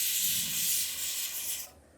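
A pressure cooker cooking pumpkin for mathanga halwa in a Kerala village kitchen lets off a steady, loud, hissing steam whistle for nearly two seconds, then cuts off abruptly.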